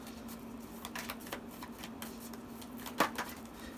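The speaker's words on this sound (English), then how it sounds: "I do 1 row at a time, shuffle the whole row" Soft, quick riffling and flicking of tarot cards being shuffled close by, with a louder snap near the end, over a faint steady hum.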